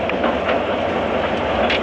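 Ruislip Lido Railway miniature train running along its track and slowing toward 6 mph, a steady, close rumble with repeated rhythmic wheel clatter throughout.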